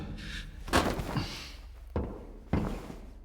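Door opening in STALKER 2, a heavy thunk and creaking scrape followed by two solid knocking thuds, close and moderately loud over a low background hum.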